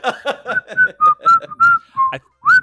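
Someone whistles a melodic tune nearby, a series of clear sustained notes with short breaths between phrases.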